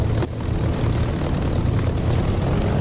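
A Spitfire's piston aircraft engine in the flight simulator DCS, a loud, steady propeller drone with a deep, rumbling low end, continuous and close, with no talk.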